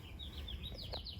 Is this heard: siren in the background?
no